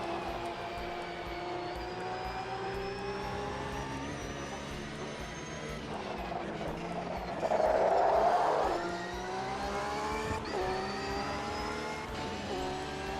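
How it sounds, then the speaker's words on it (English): A small turbocharged Duratec race-car engine in the sim racing game AMS2 during an IMSA race, droning and revving steadily with layered harmonic whine, a louder rising burst midway, with other cars passing nearby. "You've got to keep that little Duratec wound up on the turbo."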